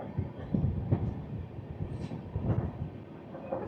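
The Visakhapatnam-Nanded Superfast Express runs at moderate speed on a single electrified line, heard from inside as a steady low rumble with recurring wheel clacks over the rail joints.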